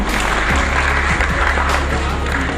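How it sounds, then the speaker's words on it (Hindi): A crowd applauds with dense, continuous clapping that fills the space, steady and fairly loud from start to finish. "तालियों से स्वागत करें दोस्तों"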